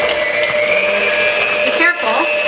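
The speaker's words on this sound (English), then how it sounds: "I just have a hand mixer, and plug it in." An electric hand mixer whirs steadily and loudly as it mashes cooked potatoes for baked potato soup, a continuous motor drone with a brief dip near the end where the beaters shift in the pot.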